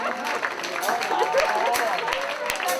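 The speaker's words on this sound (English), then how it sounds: "Give yourself a round of applause." Audience applause at the Beacon of Light Awards in Baltimore, a moderate rolling clatter of clapping with a few sharp claps and some voices mixed in.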